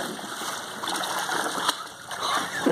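Water splashes and churns in a cold outdoor swimming pool as a person moves about in the deep end, a close, continuous splattering with a few sharper splashes.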